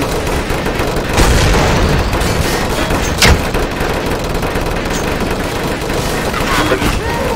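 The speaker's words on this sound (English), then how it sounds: "Let me use some nades maybe." Grenade explosions in Counter-Strike: Source, on the zombie escape map ze_starwars_v2fix, burst through dense, continuous gunfire. One sharp, loud blast stands out midway, with muffled booms and a voice faintly under the chaos.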